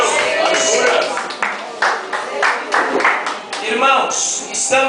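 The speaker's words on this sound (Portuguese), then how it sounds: "Você sempre está dando glória a Deus, aplaudindo" Church congregation clapping during an evangelical Portuguese-language sermon, irregular bursts of hand claps close by, mixed with voices and talk throughout.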